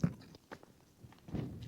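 Someone crunches a spicy dehydrated chicken tikka with rice meal at a winter wild camp, with a few close, brittle bites and chews in a quiet tent.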